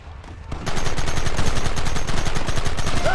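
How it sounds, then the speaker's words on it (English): Rapid gunfire from Red Dead Redemption on Switch erupts after a brief quiet start, a loud, close, sustained barrage of overlapping shots and automatic fire with no voices. "There they are! Open fire!"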